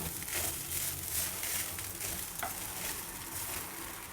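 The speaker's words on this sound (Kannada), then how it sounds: "ಅನ್ನ ಹಾಕಿದ್ಮೇಲೆ ಚೆನ್ನಾಗಿ ಹುರಿದಿದ್ದೀನಿ" Cooked rice tossed and stir-fried with curry leaf paste in a hot pan gives a steady close sizzle, with scraping stirs and light crackles running throughout.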